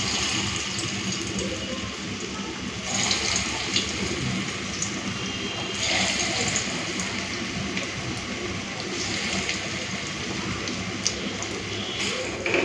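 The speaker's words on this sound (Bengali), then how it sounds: "চলুন এখন কাঁচকলার ফুলুরিগুলো ভেজে ফেলি।" Green banana fritters sizzle steadily in hot oil in a pan, a dense, even crackle that stays close and continuous from start to finish with no talking.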